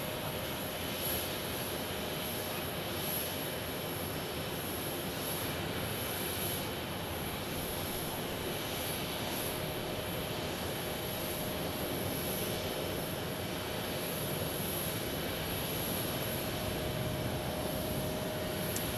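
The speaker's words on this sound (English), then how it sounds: "This is the 737-800 from Seattle." A Boeing 737-800 jet airliner from Seattle at an airport sends out a steady, broad engine roar with a high whine, continuous and fairly loud throughout, without speech.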